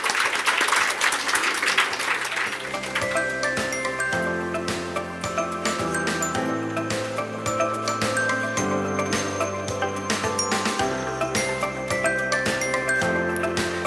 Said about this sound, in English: please give them another round of applause, everybody, ladies and gentlemen